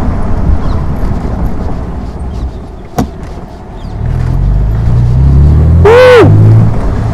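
A Morgan Roadster with a 3.0 litre V6 engine starts up and settles into a loud, steady low rumble in the second half, preceded by quieter background noise and a brief sharp knock.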